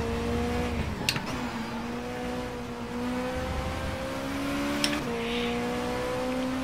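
A WTCC touring car engine from the racing game Race 07 at the Valencia circuit holds a steady whining drone that climbs in pitch, broken twice by quick gear changes with a brief dip and click, moderately loud and without speech.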